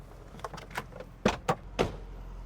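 Faint clunks and latch clicks from a 1980 Mercedes-Benz 450 SEL door as the driver climbs out, several sharp knocks over a low idling engine hum, fairly quiet.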